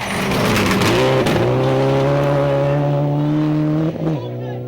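Rally car engine racing flat out on a Safari Rally stage in Kenya, a loud sustained roar with strong harmonics that holds steady, briefly dips near the end and then climbs again, while a voice talks over it.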